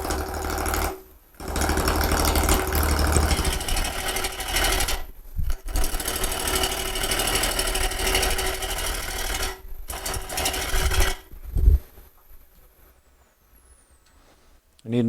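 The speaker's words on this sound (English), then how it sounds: "One reason you don't move the tool rest while the lathe is spinning" A wood lathe spins a bias-turned bowl blank cut from a cube, making a loud, steady broadband whir with scraping tool contact, broken by a few brief pauses and winding down near the end.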